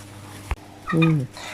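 Broiler chickens at 26 days old cluck briefly while being weighed, giving one short nearby squawk-like call among light handling noise, with no speech.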